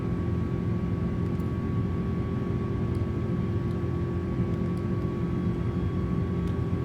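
Airbus A330 cabin or cockpit drone in Microsoft Flight Simulator 2024, climbing after takeoff with flaps up: a steady, loud low engine rumble with a faint constant tone above it, continuous and unbroken with no talking.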